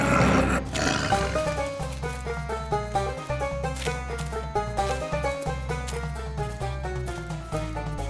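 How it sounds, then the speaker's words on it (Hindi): A lion roars in a Tenali Rama jungle camp scene, a loud growling burst at the start giving way to a rhythmic, layered dramatic music score that carries on throughout. "शेर की गर्जना सुनाई देती है"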